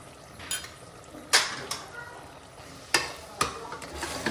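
Spices are stirred into a tomato gravy in a pan, giving a soft sizzle under several sharp scraping clinks of a spoon against the pan at irregular intervals.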